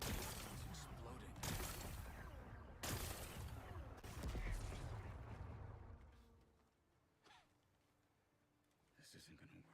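Rocks blasted apart in Horizon Forbidden West, a run of loud booming explosions with crumbling debris during the first six seconds, then fading to quieter rumbles and faint game sounds.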